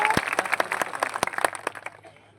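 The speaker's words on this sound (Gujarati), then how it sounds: "એમનું પણ એકવાર જોરદાર તાળીઓના ગણગણાટથી એમનું સ્વાગત કરી લઈએ." A crowd at a political rally in Nasvadi claps to welcome a young leader, sparse sharp handclaps scattered at moderate distance, fairly quiet and thinning out toward the end.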